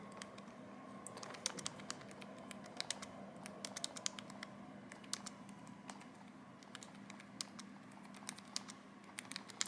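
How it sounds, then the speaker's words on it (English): Thumbs tap out quick, irregular bursts of light clicks on the mechanical slide-out keyboard of a Planet Computers Astro Slide phone, close and crisp against a faint steady hum. "I'll just do some thumb typing here"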